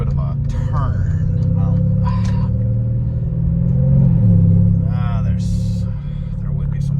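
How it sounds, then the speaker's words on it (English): A Mercedes R231 SL550 with Weistec-tuned ECU and TCU rumbles with a deep, loud, continuous exhaust drone from inside the cabin, swelling briefly as it revs, while a person talks over it. "The exhaust is more rumbly too, because it revs up more freely."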